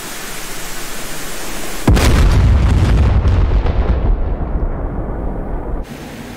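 A missile fires and explodes during a DCS flight sim air battle over the desert in the Iran–Iraq War campaign: a sudden loud roaring blast that rumbles on for about four seconds, then cuts off abruptly.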